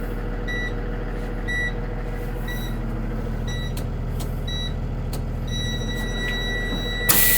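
A Thomas C2 school bus sounds a repeating electronic warning beep during a light test, short evenly spaced tones that turn into one long continuous tone, over a steady low engine idle.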